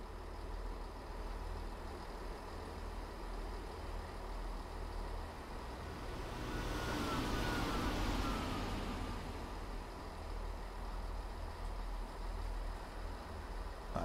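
A Class 166 diesel train braking on approach to Ealing Broadway in Train Sim World 4: a steady engine drone runs throughout, and a broad hiss swells in the middle before fading back to the drone.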